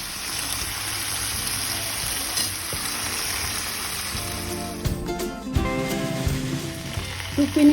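A hot sizzler plate loaded with brown rice, paneer tikka and gravy sizzles and crackles steadily and close, with some clinks and scraping near the end.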